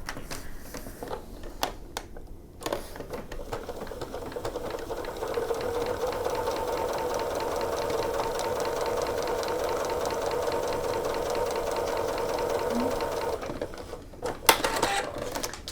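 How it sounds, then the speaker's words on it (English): A sewing machine stitches quilt block pieces together in one steady, continuous run of about ten seconds, with quieter handling noises before and after. "take it to the machine"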